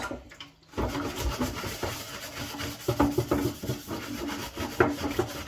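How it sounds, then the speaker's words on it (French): A brush scrubs the grimy side of a dirty deep fryer in quick uneven rubbing strokes, close and moderately loud, after a brief quiet moment at the start; no one speaks. "Vous prenez votre brosse."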